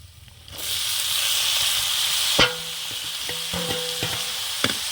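Loud, steady sizzling of ash gourd frying in a pan with ginger, with occasional sharp clinks and scraping of a utensil stirring.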